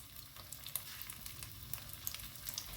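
Egg-dipped, flour-coated kebab frying in hot oil, a soft continuous sizzle with faint crackling pops, quiet and steady with no voices.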